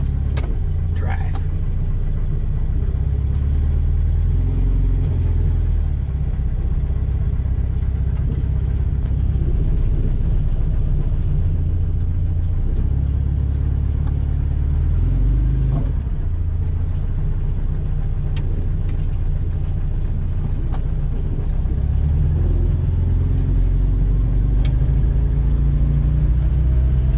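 A Volvo 142 that sat unused for decades runs while driving, its low steady engine rumble and road noise continuing throughout, with people talking over it in the car.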